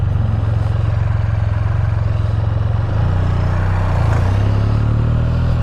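Turbo diesel engine of a Can-Am Spyder F3-S touring trike runs steadily under light throttle, a close, continuous mid-pitched drone that rises slightly in revs partway through, with no voices.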